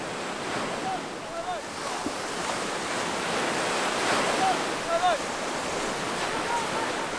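Waves wash along the shore of the Caspian Sea, a broad continuous surf roar mixed with gusting wind buffeting the microphone.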